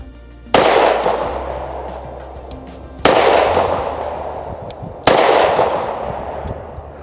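A short-barrel Kimber CDS9 pistol fires 50-grain civil defense rounds outdoors, three loud, close shots spaced a couple of seconds apart, each with a long ringing decay.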